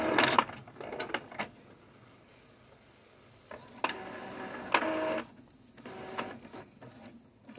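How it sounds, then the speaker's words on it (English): An Epson ET2720 sublimation printer runs a nozzle check, giving irregular mechanical bursts of whirring and clicking with short pauses between them, close and fairly loud. "go to maintenance and do a nozzle check"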